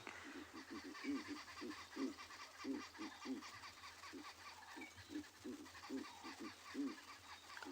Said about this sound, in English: Now that owl calling is what's making the other birds go crazy.